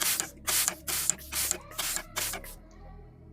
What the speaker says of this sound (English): I'm gonna spray my brush like that, and then I'm gonna spray my face.